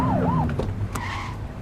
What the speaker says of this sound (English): Get on their tail and flip the siren.